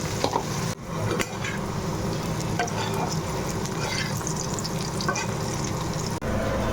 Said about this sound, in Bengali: করলা এরকম করে ভাজতে মানে সময় লাগে বেশি